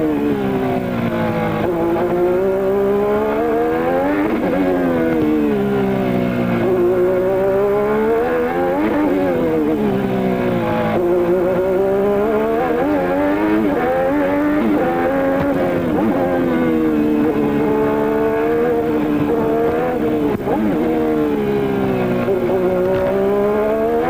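A high-pitched racing engine screams continuously during 1987 Australian Grand Prix qualifying, its pitch rising and dropping through repeated gear changes as it drives on at speed.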